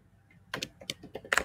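Quick, close clicks of a computer keyboard as HTML code is typed for a product landing page, a short burst of several keystrokes at moderate loudness.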